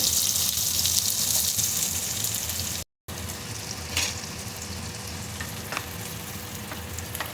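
Onion frying in a pan of hot oil tempered with black cumin gives a continuous close hiss and sizzle. A short dropout interrupts it, and scattered crackles and pops sit over the steady frying.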